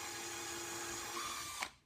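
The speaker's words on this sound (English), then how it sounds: "you're going to take a pre-drill and come into the hole that's already there" A drill pre-drills a screw hole in a wooden serving tray, a steady close whirring that holds for over a second and a half, then stops abruptly near the end.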